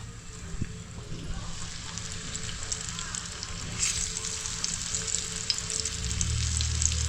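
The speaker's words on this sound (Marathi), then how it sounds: "पहिले डोमा मासे ते फ्राय करून घेऊ" Croaker (dhoma) fish fries in hot oil on a tawa after being coated on both sides, making a continuous even sizzle and crackle close by that grows slightly denser toward the end.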